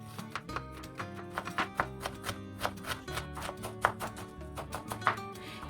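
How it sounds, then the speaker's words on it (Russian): A knife chops onion and parsley rhythmically against a board, a run of quick, crisp taps close by, with faint background music. "Мелко нарезаю лук и петрушку."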